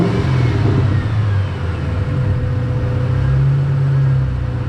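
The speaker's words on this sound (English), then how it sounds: "I wonder how the car is gonna run with the intake off." A Ford Mustang engine idles roughly with its air intake removed, a steady low rumble with a slight dip in the middle, close and loud and heard on its own.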